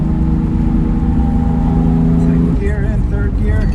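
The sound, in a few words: 1965 Jaguar XKE Series I 4.2 coupe driving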